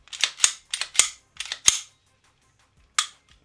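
A Ruger 5.7 pistol is reassembled: a quick series of sharp metallic clicks and clacks as the slide is worked back into place, then a pause and one final crisp click, close and alone.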